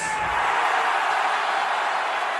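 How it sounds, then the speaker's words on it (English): A wrestling crowd roars in a sustained, dense wave of cheering that stays loud and steady throughout, with no individual voices standing out. "Crowd erupts."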